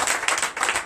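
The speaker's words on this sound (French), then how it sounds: "Donnez l'acclamation à Jésus." A church congregation claps in acclamation during a night deliverance service, a dense burst of many hands lasting under a second, fairly loud and steady with no talk over it.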